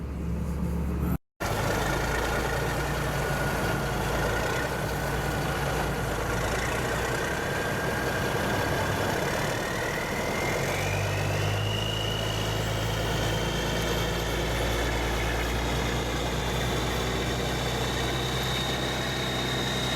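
A steady, droning engine of a loaded truck with chained-down cargo runs continuously, with low rumble and road noise as the vehicle drives along; no voices.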